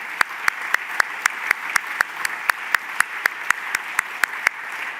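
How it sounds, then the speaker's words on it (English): Sharp, evenly spaced claps ring out one after another in a steady rhythm over a hushed background, in a large hall at a space science conference. "please join me with a round of applause to the organizing committee"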